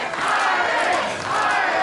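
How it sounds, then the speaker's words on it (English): Pro wrestling crowd at a PowerSlam TV match roaring and chanting for an Irish wrestler, a dense loud swell of voices filling the venue that dips briefly and surges again. "And these fans behind the Irishman cheering for Irish"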